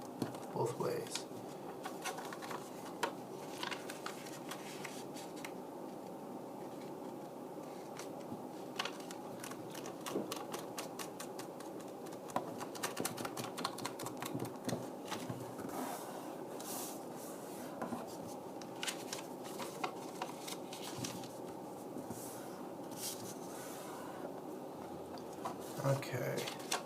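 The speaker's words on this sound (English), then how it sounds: "We're going to fold it diagonally in half, both ways, and then horizontally in half, both ways." Origami paper for a modular cactus is folded and creased, soft crinkling, rubbing and crisp snaps scattered across a long stretch, close and quiet.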